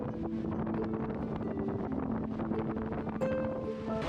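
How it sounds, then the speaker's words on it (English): Strong storm wind roars continuously over open water far offshore in the Gulf Stream, buffeting a boat in 45-knot gusts with waves and surf churning steadily beneath, loud and unbroken throughout. "here's the storm"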